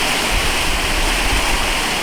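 Steady, dense roar of a waterfall pouring into a cold pool on a spring hike, close and continuous with no voices.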